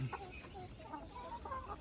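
Laying hens cluck in short, repeated bursts, fairly faint and close, with someone speaking Thai quietly underneath.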